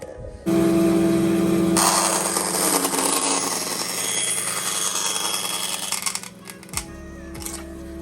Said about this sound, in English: I'll do this back on the bandsaw again